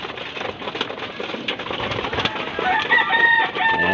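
Young racing pigeons at a loft, a busy flock feeding with constant fluttering, pecking and cooing close by, steady and fairly loud throughout.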